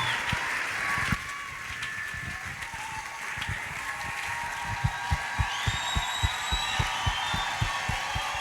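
Applause in a church gathering, a soft wash of clapping early on, then a steady rhythmic beat of evenly spaced claps carrying on under faint tones and room noise.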